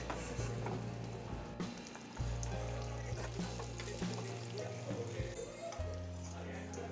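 Eggs roasting in a kadai with salt, chilli powder, turmeric and garam masala for an egg curry, a steady low sizzle with occasional stirring scrapes running through the whole stretch.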